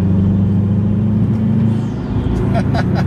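A tuned turbocharged Subaru Legacy GT pulls hard in fifth gear, its engine droning loud and steady from inside the cabin with a deep rumble, while brief voice sounds rise near the end.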